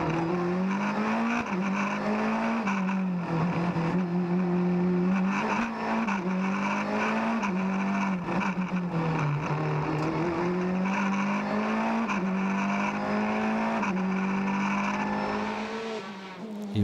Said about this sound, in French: Mais sa Peugeot souffre de petits problèmes moteurs.